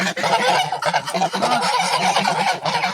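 A flock of geese honks loudly and continuously at close range, with overlapping nasal calls filling the whole stretch and no voices.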